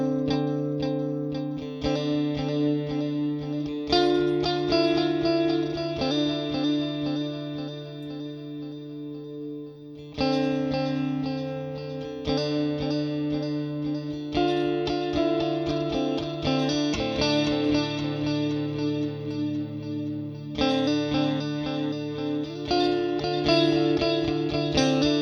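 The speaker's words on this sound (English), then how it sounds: "I'm going to move the subdivision switch from quarter notes to eighth notes to dotted eighths just so you can hear the range in subdivisions." An electric guitar plays through a Walrus Audio Mako D1 delay pedal as the subdivision setting moves through quarter, eighth and dotted-eighth notes. Ringing notes and chords are followed by echoing repeats, loud and steady throughout.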